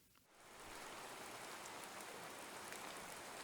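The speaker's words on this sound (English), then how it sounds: "It begins to rain as Rin slowly makes her way down off of this bridge." Steady rain rushes down in a dense, even hiss that swells in within the first half second and then holds constant, with no voices over it.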